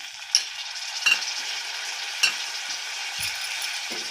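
Tomato rice masala with onion, ginger-garlic paste and kasuri methi is stirred in a pan under a soft, steady sizzle, with a few sharp scraping clicks of a spoon against the metal.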